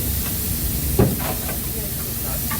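Arjoeno steam locomotive at the PG Rejosari sugar mill, its blower hissing to draw smoke forward up the chimney; a steady, broad hiss fills the whole stretch with a brief knock near the middle and faint voices in the background.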